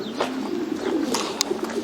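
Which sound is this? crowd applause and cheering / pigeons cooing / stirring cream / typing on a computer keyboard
pigeons cooing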